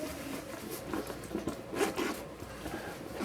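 Zipper on the back pouch of an FPV drone backpack being pulled open, a close, soft rasping run in short uneven bursts over about three seconds.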